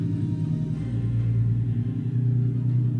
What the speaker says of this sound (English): Big loud truck.